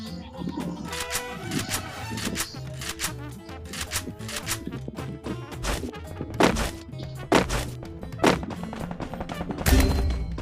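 A pistol launcher fires in a fast-paced shooter video game. Sharp, punchy shots land at irregular intervals with a few heavier bursts. Game sounds clutter the background.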